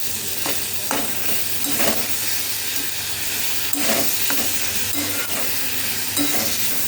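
Chana dal with spices is stir-fried in a pan: a loud, continuous sizzling hiss close up, broken by repeated spoon scrapes and stirs at an uneven rhythm.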